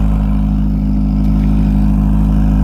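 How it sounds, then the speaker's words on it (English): A Honda Prelude's aftermarket exhaust with a silencer fitted drones loud and close at idle, a steady low rumble with a faint rattly edge, no voices over it. "I don't care for this exhaust much."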